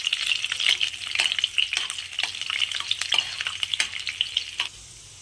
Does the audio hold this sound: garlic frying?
yes